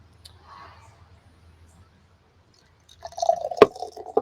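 Steel Hands Festbier is poured, with faint quiet handling noises first, then a short gurgling splash of liquid and a sharp clink near the end, close and clear.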